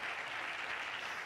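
Audience applause, a dense, even patter of clapping, faint and continuous for the short stretch, with no speech.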